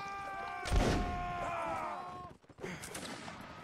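A musket volley in the Napoleonic Wars video game, one heavy boom followed by a decaying rumble and scattered distant reports, heard at moderate level with a voice talking over it.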